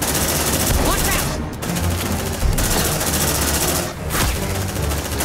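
Dense, continuous gunfire from Aliens: Dark Descent fills the whole span, with sustained automatic bursts mixed into loud combat noise and brief dips in the middle. Game voices and speech are faintly present beneath it.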